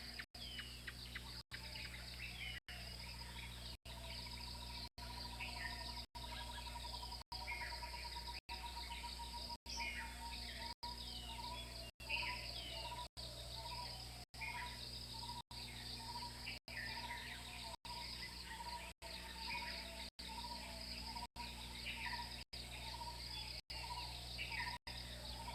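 Dense, steady chirping of crickets and other insects fills a forest home to a small monastic community, a continuous faint trilling chorus with occasional bird calls mixed in, distant and even throughout.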